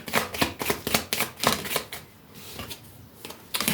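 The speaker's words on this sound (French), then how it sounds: "Je vais juste là aussi mettre 3 cartes au-dessus." Tarot cards handled and laid out on a table during a cartomancy reading, a run of soft papery flicks and taps in quick succession, then a quieter pause before a final card lands, no voice.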